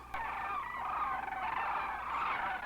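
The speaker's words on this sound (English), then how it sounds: "That's birds screeching?" Eerie, unearthly bird screeching from the film The Dunwich Horror, a continuous wavering high chorus of cries that swells and dips steadily with no talking over it.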